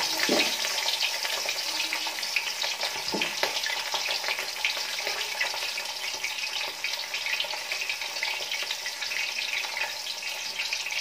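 Rohu and katla fish pieces sizzle steadily in hot oil, with a constant close crackling fry and occasional stirring clinks throughout.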